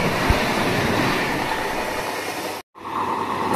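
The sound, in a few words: passenger train wheels on rail track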